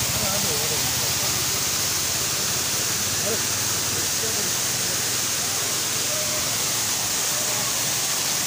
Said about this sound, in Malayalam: അതിമനോഹരമായിട്ടുള്ള ഒരു വെള്ളച്ചാട്ടമാണ്